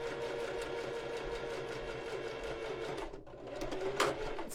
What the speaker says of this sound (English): So I'm just going to stitch that down.